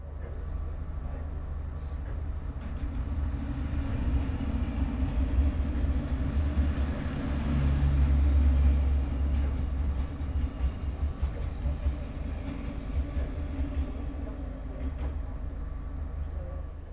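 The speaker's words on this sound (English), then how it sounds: "We have to wait here in order for an inbound sleeper train from Hanoi to pass us." An inbound sleeper train from Hanoi passes on a single-track railway in Vietnam, heard from inside a waiting train as a steady low rumble and rolling drone that swells in the middle and then eases, with no talk.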